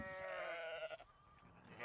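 A few goats at a meadow fence bleat in a loud, wavering, drawn-out call that fades into softer bleats, part of a children's Advent story about a lamb.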